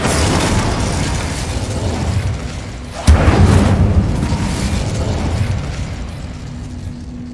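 An Incendio fire spell cast in Hogwarts Legacy, a sudden loud burst followed by a roaring rush that slowly fades beneath steady game ambience.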